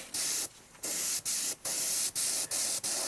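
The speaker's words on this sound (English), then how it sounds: "I'm using an airbrush that I've got, automotive paint detail gun, to spray on some brown paint" An automotive paint detail airbrush gun sprays brown acrylic paint onto a foam prop axe in short bursts, about six steady hissing pulses separated by brief pauses, close and clear.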